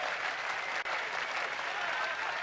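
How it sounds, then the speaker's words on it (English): Crowd cheering after a goal in the football video game Football Tactics & Glory, a dense, steady roar of applause. "And the crowd go mad."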